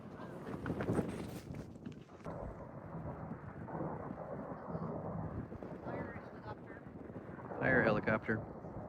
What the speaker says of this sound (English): Kind of windy out here, if you can hear me.